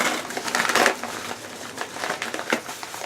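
Crinkly crunching and tearing of a padded plastic bubble mailer being opened, with several bursts of rustling close up.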